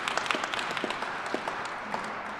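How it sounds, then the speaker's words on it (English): An audience at a Lunar New Year ceremony applauds volunteers in the room, a steady, moderately faint wash of many hands clapping with scattered sharper claps poking through, continuous throughout without speech. "big round of applause for all the volunteers in the room"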